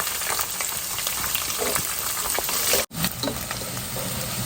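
Finely chopped shallots hit a pan of frying grated coconut for beef ularthu, giving a loud, dense, continuous sizzle with a brief cut partway through, then the crackle resumes.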